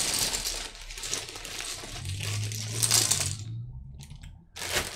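Old mechanical keyboard keycaps are dropped into a plastic bag, a loose clattering rattle of many small plastic pieces spilling in bursts close by, with a brief pause near the end before another handful falls.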